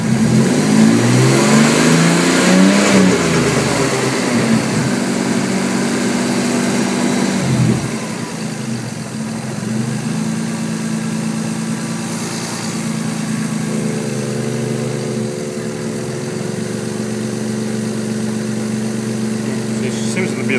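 A car engine revs hard at first, rising and falling, then settles into a steady, slightly high idle for the remainder, loud and close, with a constant hum present alongside.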